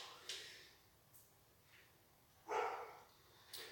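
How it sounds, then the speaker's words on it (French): A dog barks a few times in short, sharp, distant-sounding bursts spaced irregularly over a quiet background, faint and alone without talk. "mais il va arrêter d'aboyer."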